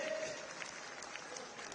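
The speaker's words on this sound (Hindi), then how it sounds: "तो एक बार जोरदार तालियां द्वारका बी वार्ड के लिए।" Faint, distant applause from a crowd at a political event in Delhi, a steady patter of clapping with voices mixed underneath.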